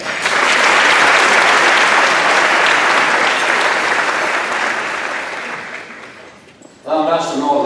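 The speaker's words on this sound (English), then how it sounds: "Let's give an applause to the staff in the kitchen for preparing a wonderful meal today" Luncheon guests at a chamber of commerce event applaud the kitchen staff, loud sustained clapping that slowly fades out, followed by a brief moment of someone speaking.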